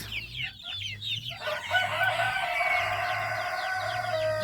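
Chickens cluck and chatter close by, with a rooster crowing partway through over a low, rhythmic background hum.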